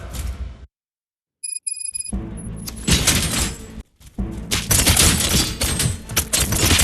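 Bursts of rapid gunfire crackle loudly in the video game RoboCop: Rogue City after a brief silence, with sharp repeated shots and a short pause between two intense volleys.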